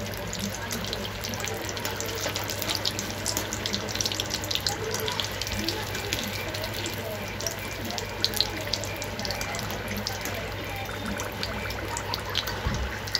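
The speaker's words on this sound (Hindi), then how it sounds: "हल्का सुनहरा होने तक हम इसे फ्राई करेंगे।" Chicken samosas, Mumbai style, fry in hot oil with a continuous crackling, hissing sizzle that holds steady throughout.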